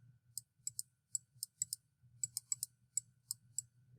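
A computer mouse clicks repeatedly at close range, quick light taps in short irregular bursts over a low steady hum, with no talking.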